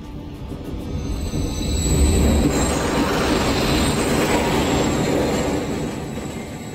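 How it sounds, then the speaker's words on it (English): A train rumbles past in the Call of Duty: Modern Warfare 3 campaign, loud and close, with heavy wheel rumble and a sustained metallic squeal that swells and fades over several seconds. "Another train coming."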